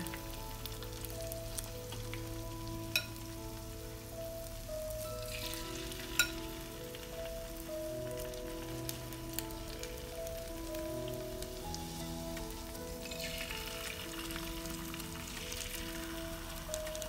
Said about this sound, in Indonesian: setelah minyaknya sudah panas, ini bayam telur dadarnya siap dimasukkan deh ke dalam wajannya